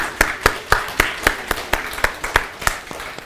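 Church congregation clapping in welcome, a steady run of about a dozen sharp, evenly spaced claps close by, fairly loud and without talk over them.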